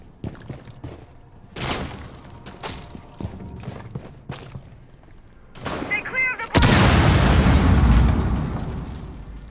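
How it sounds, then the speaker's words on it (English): A breach charge detonating in Rainbow Six Siege: scattered gunshot pops and thuds build up before a sudden loud blast bursts out and rumbles on, tailing off slowly. "breach charge activated"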